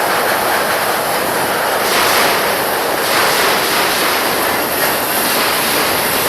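A steady, loud rushing of wind and water surrounds a tour boat cruising down the South Branch of the Chicago River, a continuous broadband roar with no speech.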